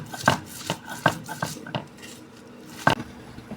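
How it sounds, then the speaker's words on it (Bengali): Dried chilli, garlic, onion and coriander leaves being mashed for Bangladeshi bhorta, with a few sharp knocks and scrapes at irregular intervals, close and moderately loud, separated by quieter gaps. "এখন বেটে নিব।"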